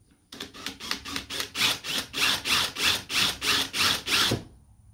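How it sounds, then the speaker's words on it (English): A drill bit bores a hole in metal for a homemade metal bender, the whine rising and falling in about a dozen steady pulses of roughly equal strength, close and loud with no talking. "I'm actually come with a drill bit that I'm going to drill the hole with"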